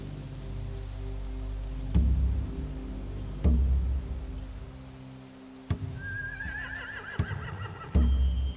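Horses whinny and neigh in a game scene, with shrill calls rising late over a low rumbling background and sharp thuds at intervals, close and fairly loud.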